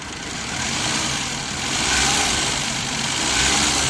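Suzuki K6A engine in a DA64W idling with a misfire, suspected to be a faulty ignition coil, a close, loud steady engine drone with slight uneven swells in level and no talking.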